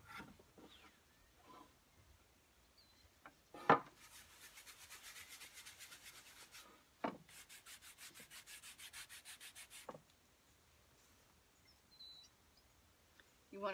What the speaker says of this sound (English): You want to rub with the wood grain.